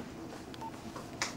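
Short series of telephone keypad dialing tones as a number is entered to call someone, a few quick beeps over faint room background, no speech.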